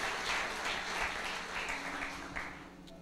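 A church congregation claps in praise during a sermon, a full, reverberant round of applause that holds steady, then thins out and fades toward the end.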